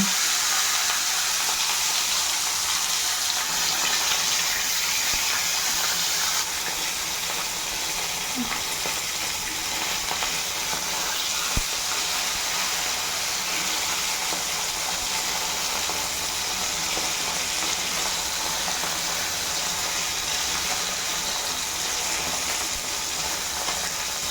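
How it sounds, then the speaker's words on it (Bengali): Khoira fish frying in a pan give off a steady, even hiss of sizzling oil that runs unbroken throughout, fairly close and with no talking over it. "এদিকে দেখো মাছ ভাজা করছি"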